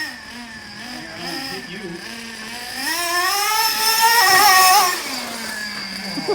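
A Traxxas Slayer RC truck fitted with a supercharged Novarossi 2.5 engine screams and revs, its whining pitch rising and falling as it passes nearby, with a person speaking briefly.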